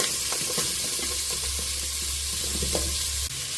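Chopped onion sizzling in a frying pan with curry leaves, a loud close hiss with scattered stirring clicks and a low hum, steady throughout.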